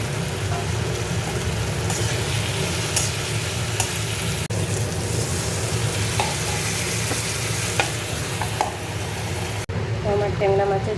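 Tengra fish frying in hot oil for a curry, a continuous sizzling and stirring close by, with a low background rumble and someone talking over it.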